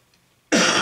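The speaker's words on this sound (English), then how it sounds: "I do apologise for the cough." A single loud, harsh cough bursts out abruptly after a short stretch of near silence, close to the listener.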